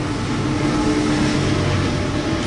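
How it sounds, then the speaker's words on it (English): A passing train produces a steady, loud, broadband rumble that holds without break throughout, with no voices over it. "sorry guys, the train"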